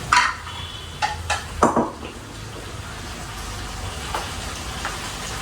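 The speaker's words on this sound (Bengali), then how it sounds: "এই যে মাছ ভাজছি তোমার জন্য" Dory fish fillets fry in a home kitchen pan, giving a steady close sizzle with a few metal utensil clinks near the start.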